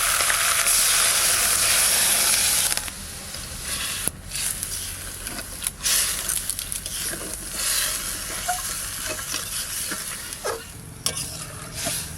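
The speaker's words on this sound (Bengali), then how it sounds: "এবার জল দিয়ে দেবো" Water goes into a hot cooking pan at a riverside home kitchen, where fresh river fish is being cooked. A loud steady hiss breaks off after a few seconds into softer bubbling sizzle and stirring scrapes, close, with no speech.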